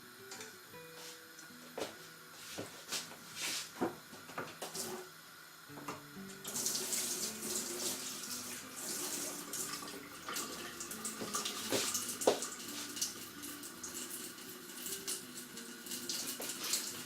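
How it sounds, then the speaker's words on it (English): Metal spoon rinsed under a cold kitchen tap during mead homebrewing, with a steady hiss of running water starting partway through after some clinks and handling sounds, close and moderately loud. "What I do is just rinse the metal spoon under a cold tap"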